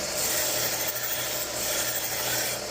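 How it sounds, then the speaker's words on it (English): A nakiri knife edge gets its final sharpening, a steady, even hissing rasp of steel on an abrasive, continuous and close with no talking. "now we'll go ahead and do the final sharpening right here"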